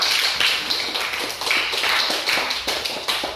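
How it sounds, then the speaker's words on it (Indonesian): Classroom students clapping hands together in a dense, steady patter of many close, sharp claps, loud and continuous without speech. "tepuk tangan untuk kita semua"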